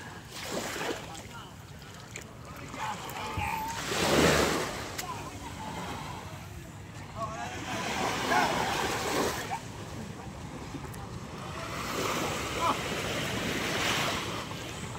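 Gentle waves of a calm sea washing and lapping near the shore by a boat at a fish terminal in Tanza, Cavite, with wind buffeting the microphone and some indistinct talk in the background.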